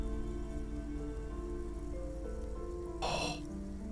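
Steady rain patters in the Disco Elysium video game over a layer of sustained music tones, with a short brighter splash of sound near the three-second mark.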